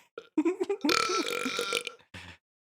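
A long, loud, close burp rolls out in one sustained belch after a few short gulping sounds, followed by a brief second burp.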